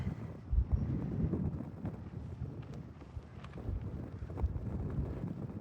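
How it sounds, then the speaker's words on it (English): Quiet, gusty wind on a mountain gravel road buffeting the microphone as low rumbling bursts that rise and fall, with faint rattling underneath. "This is how windy it is"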